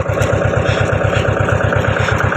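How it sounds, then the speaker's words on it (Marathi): A tractor engine runs steadily in a farm field, loud and close. Its even, rapid low-pitched chugging beats without a break and has no talk over it. "इथं बघू शकता आपल्या रानात ट्रॅक्टर चालू आहे।"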